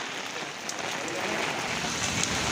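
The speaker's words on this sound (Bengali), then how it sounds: "ওরে বৃষ্টি, এত বলে বৃষ্টি নামে।" Heavy rain from Cyclone Remal pours down in Bangladesh, a dense, steady roar of downpour that fills the whole stretch.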